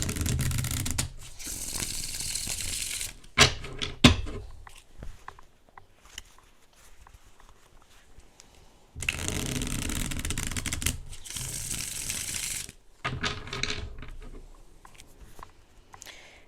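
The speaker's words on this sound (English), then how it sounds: "Let me shuffle this deck real quick." A deck of tarot cards is shuffled by hand in two bursts of close, crisp riffling and rustling, separated by quieter stretches of soft handling and taps.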